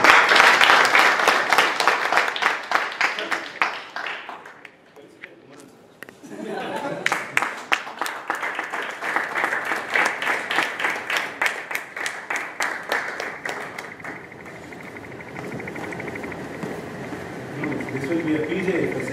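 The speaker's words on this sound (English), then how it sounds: "Give them a good round of applause, please." An audience applauds at a committee installation ceremony: a loud burst of clapping fades to near silence, then swells again into sustained, uneven clapping with scattered chuckles and voices mixed in.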